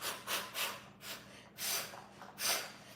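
Forceful breathing out, five or six sharp, close exhalations in a steady rhythm, each a rushing puff of air with short quiet gaps between.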